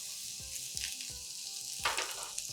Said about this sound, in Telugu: ఇంకా కొంచెం నెయ్యి వేసి, మళ్ళీ కొద్దిగా నెయ్యి వేసి ఈ గుమ్మడికాయ ముక్కల్ని వేయించేద్దాం